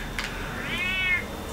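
A cat in Telltale's Batman game gives a short rising-and-falling meow, close and clear, preceded by a faint chirp, with no speech.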